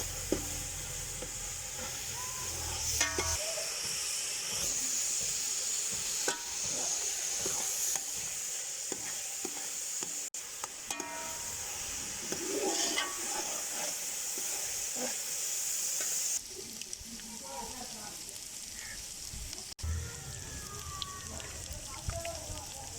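Grated onion fries in a pan with a constant bright sizzle, occasional stirring scrapes and clicks, and a loud burst of spitting partway through; no talk over it.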